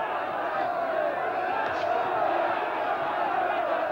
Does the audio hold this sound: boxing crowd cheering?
yes